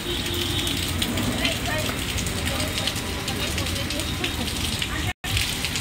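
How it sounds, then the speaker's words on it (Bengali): Heavy rain pours down outside in a steady, dense hiss that barely changes, with a brief dropout near the end. "এই দেখুন তিতলি দাঁড়িয়েছে, ভাবছে যে আমি কি করে যাব এত বৃষ্টির মধ্যে।"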